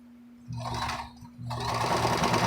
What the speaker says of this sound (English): what I'm doing now is I'm sewing the tops of all these masks and chain sewing them